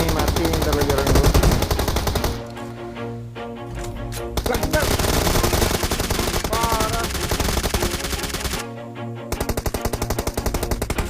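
PUBG gameplay gunfire with rapid machine-gun bursts in repeated volleys, loud and close, broken by short gaps, with a voice talking faintly underneath.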